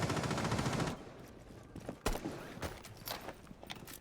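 Gunfire in a competitive Rainbow Six Siege match: a dense, rapid automatic burst opens the clip, then scattered single shots and sharp impacts follow at uneven intervals.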